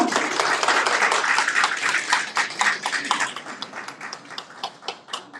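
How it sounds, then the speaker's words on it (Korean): Officials applaud loudly at a ceremony where four local government heads jointly propose including a railway line in the Fifth National Railway Network Plan; dense clapping gradually thins into scattered separate claps. "관계자 여러분들 크게 박수 한번 부탁드립니다"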